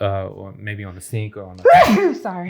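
A single sharp sneeze bursts out loud and close in the middle of a podcast conversation, with people talking just before and after it.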